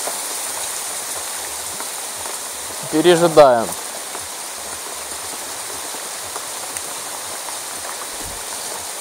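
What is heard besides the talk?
heavy rain falling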